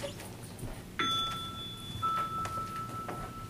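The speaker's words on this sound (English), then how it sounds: "when you hear the sound of this chime" A single chime struck during a healing meditation, ringing with a bright sustained tone that fades over about a second and a half against quiet room ambience.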